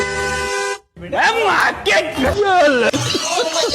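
A car horn gives one loud, steady blast lasting about half a second on a roadside, cuts off, and then voices talk over the street.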